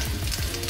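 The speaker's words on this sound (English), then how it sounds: "We're gonna put a nice little drizzle. You can hear it kind of crackling." Oil drizzled into a pan of soy- and nut-free vegan meatballs crackles and sizzles in a steady, close frying hiss with no talk over it.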